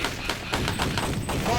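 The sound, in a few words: gunfire in a retro shooter video game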